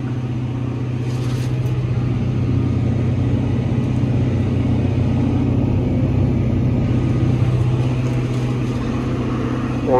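A Fendt tractor engine labours while its wheels slip, holding a loud, steady low drone with a throbbing, even rhythm for the whole stretch.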